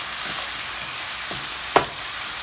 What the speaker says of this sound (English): we're going to brown the meat. Got the flame about medium right now. Cooks pretty fast. Just going to stir it around.